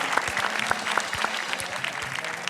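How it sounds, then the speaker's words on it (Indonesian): A studio audience claps continuously for a guest on a television religious talk show, producing dense, even applause with distinct individual claps throughout. "Kita berikan tepuk tangan dong untuk Tasya."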